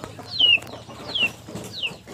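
Chickens cluck and squawk in three short, rising calls, fairly close, over a quiet farmyard background.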